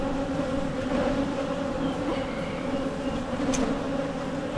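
Honey bees buzz at a hive in mid-April, a steady, dense drone that holds close and loud throughout, with no talking.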